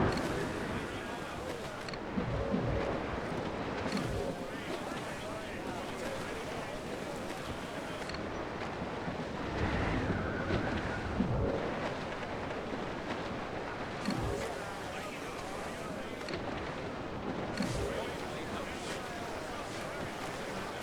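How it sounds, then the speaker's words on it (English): Stormy rough sea in Assassin's Creed IV Black Flag, waves surging against a sailing ship with gusting wind in rolling swells, with crew voices calling out over the water. "Dark skies and rough seas there!"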